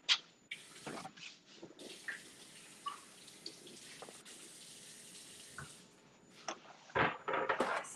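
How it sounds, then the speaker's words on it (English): Tap water runs into a sink as hands are rinsed, a steady mid-level wash lasting several seconds and ending in louder splashes and clatter near the close. "I'll give my hands a little rinse again."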